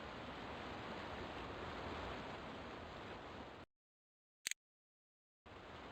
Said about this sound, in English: the closer you get to the waterfall feature, the louder the waterfall actually gets